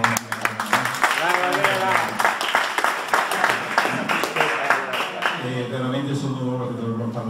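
Audience applause at a Lions and Leo club charter night gala: a burst of clapping rises beneath someone speaking into a microphone, then continues as a lighter patter while he keeps talking.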